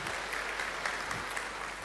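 Many hands clapping together at an anniversary event, an even, moderately distant round of applause with a few sharper claps standing out.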